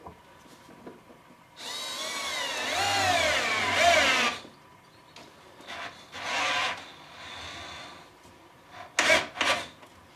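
A Festool CXS cordless drill drives a lag bolt into wood, with a long straining whir that bogs down and stalls as the motor overloads, followed by shorter bursts and a couple of quick final pulses, with no talk.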